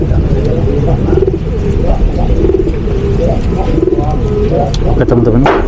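Pigeons coo repeatedly at a backyard pigeon loft, the low rolling calls arriving in regular bursts close by, with faint rustling and small clicks in between.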